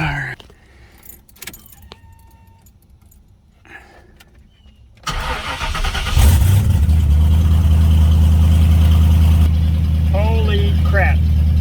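Car engine fitted with an MSD Digital 6 Plus ignition, first quiet rustling and keys jangling, then a loud starter cranking that catches and settles into a steady, close, loud running idle, with people talking.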